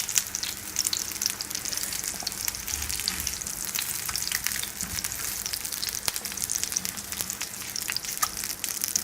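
Peshawari-style chapli kababs of raw minced meat fry on a slow flame, giving a steady, close crackling sizzle with fine popping spits throughout and no talk.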